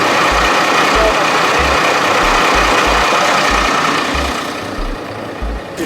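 Rescue boat engines of a SNSM lifeboat in Martinique run loud and close with a steady rumbling idle and rhythmic low thumping throughout, easing slightly toward the end.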